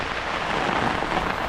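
Heavy rain pours steadily on a soaked backyard garden in Australia, a dense, loud, even hiss filling the whole stretch with no talk.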